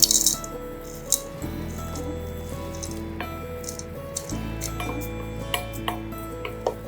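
A mixer grinder runs steadily with a loud, persistent rattle while grinding roasted curry leaves with spices, dried ginger and rock salt; the motor drone shifts pitch partway through.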